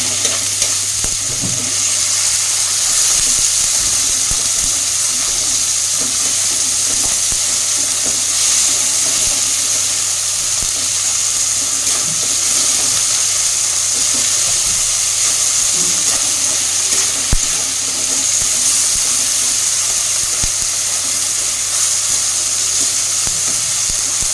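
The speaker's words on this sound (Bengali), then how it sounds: "লবণ দিয়ে দিলাম, ভালো করে ভেজে নেবো লবণ দিয়ে" Food frying in a pan with salt, a steady loud hiss of sizzling oil running throughout with occasional faint stirring scrapes, close by and without talk.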